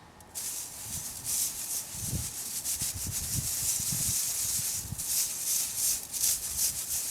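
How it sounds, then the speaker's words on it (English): Gold pay dirt from a Queensland supplier being sieved to separate the fines, giving a close, continuous gritty rasp of gravel scraping across mesh, with rhythmic pulses from each shake and no talking. "Sieve all the fines out."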